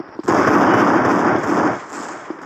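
Pistol fire in the video game Special Forces Group 2, a sharp digital shot followed by a dense, sustained burst of crackling gunfire and then a lighter shot near the end, with no voices.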